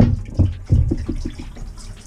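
Plumbing antifreeze poured into a sink drain while a summer home is winterized, heard as a short burst of gurgling, splashing liquid with a few uneven pulses, close and fairly loud.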